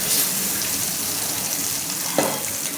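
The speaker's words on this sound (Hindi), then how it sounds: "अब हम जल्दी जल्दी अपनी वेजिटेबल्स को जो है वो सौते कर लेते हैं।" Vegetables, including cabbage and blanched cauliflower, sautéing in unsalted butter in a pan, a steady close sizzle and hiss with one brief clatter near the end.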